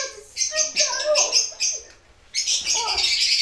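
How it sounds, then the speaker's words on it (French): Birds chirp and tweet in busy, overlapping bursts outdoors, fairly close and lively, with a short quieter gap partway through. "Il y a les oiseaux aussi qui parlent."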